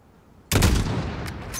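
A rifle shot in the video game Modern Warfare cracks out once, sudden and loud after a quiet moment, then a ringing echo trails off with a couple of faint later pops.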